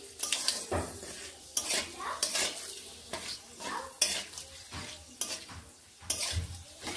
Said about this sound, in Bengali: এইবার ফোড়নগুলোকে এইভাবে নেড়ে নিচ্ছি।